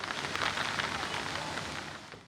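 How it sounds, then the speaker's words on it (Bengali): Heavy, continuous rain pouring down in Khulna during a prolonged downpour, a dense, steady roar of drops hitting surfaces with no voices. "টানা বৃষ্টির কবলে খুলনাবাসী"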